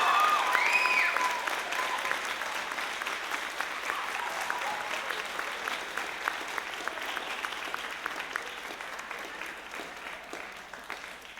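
Sustained applause from a concert audience at a high school band spring concert honoring an award recipient, steady and full throughout, with a few cheers and whistles early on.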